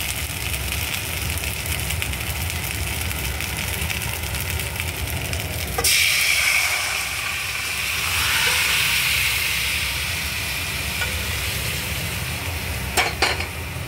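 Hot oil hits boiled whole vegetables and a continuous sizzling hiss follows, steady and close, swelling briefly as more oil goes in, with a few sharp clicks near the end.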